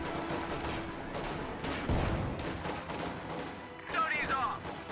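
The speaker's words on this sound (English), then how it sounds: "the pack howitzer has started laying fire on infantry formations here across the hedge" Pack howitzer firing on infantry across a hedge in a strategy game, heavy booms and thuds mixed with scattered distant gunfire, sounding under steady talk.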